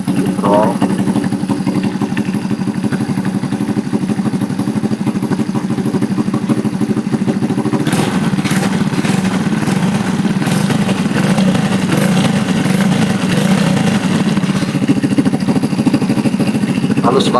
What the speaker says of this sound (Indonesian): Halus banget mesinnya.